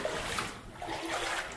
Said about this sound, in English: if you're into ASMR, the sound of this water